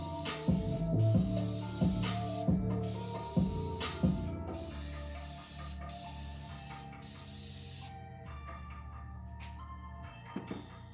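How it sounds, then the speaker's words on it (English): Clear coat sprayed from an aerosol can onto a restored car headlight: a close, steady hiss in several long passes with brief pauses, ending with a fading release. "Make sure you got a good clean spray."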